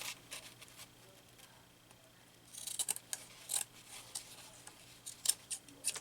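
Scissors snipping through junk journal paper, a series of quiet, crisp cuts in irregular bursts, close and faint with no talking.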